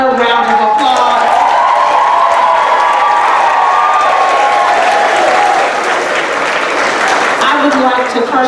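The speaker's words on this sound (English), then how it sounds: "Can we give our awesome first graders another round of applause?" Loud, sustained applause from a large crowd at a kindergarten promotion ceremony honoring first graders, with cheers and excited shouts rising through the clapping.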